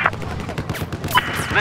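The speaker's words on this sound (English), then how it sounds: "There appears to be a hostile machine gunner." Automatic gunfire in the shooter game Battlefield 4 rattles in quick bursts of cracking shots, with in-game radio chatter and other battle noise mixed over it.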